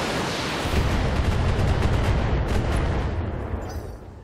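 Mech weapons fire in the BattleTech video game, a heavy rumbling barrage of booming blasts that swells and then fades out over a few seconds, loud and alone.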